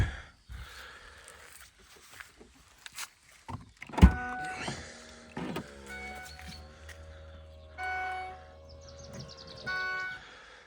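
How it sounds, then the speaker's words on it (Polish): Electric tailgate on a Mercedes ML 63 AMG: scattered clicks and a sharp thud, then the motor whirs in two short, even bursts near the end, close and fairly quiet. "Klapa elektryczna."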